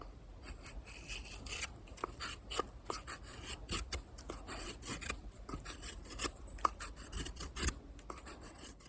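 A Condor Terrasaur Scandi knife with a 1095 steel blade shaves wood into a featherstick, making repeated close rasping, scraping strokes in an uneven rhythm with no talking.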